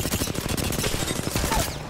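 Rapid automatic gunfire in Apex Legends, an enemy team firing in a fast stream of sharp, closely spaced shots with no pause, loud and near.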